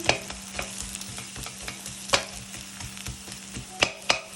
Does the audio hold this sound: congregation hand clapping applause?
no